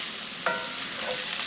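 Chicken of the woods mushrooms sizzle in a pan as they caramelize, with a soft steady hiss and one or two brief scraping stirs of a utensil, close and fairly quiet.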